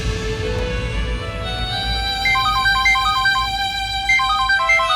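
A phone rings with an electronic ringtone. A melodic trilling pattern repeats twice over a low background hum, clear and close, with no talking.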